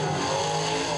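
A race car engine roars steadily as the car comes off turn four during qualifying at Wartburg Speedway, a loud, sustained drone held at high revs for the whole moment, with no talk.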